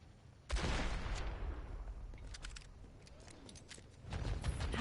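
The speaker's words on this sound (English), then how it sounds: "Ready for the fireworks to begin." Fireworks go off in the video game Overwatch: a burst of rapid crackling pops and booms, loud and dense, tapering briefly before another volley swells at the end, with no voices.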